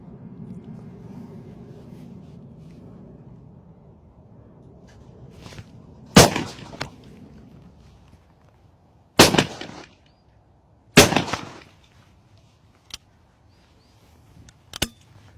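A Beretta 695 over-under hunting shotgun fires several sharp, loud reports spaced a few seconds apart, each with a short ringing decay, after a stretch of low ambient rumble.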